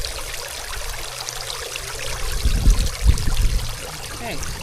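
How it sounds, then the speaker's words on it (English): Water flowing in through an opened gate into a catfish pond, a steady trickling stream that swells louder and more turbulent midway, with no voices. "So then you see the water is getting inside."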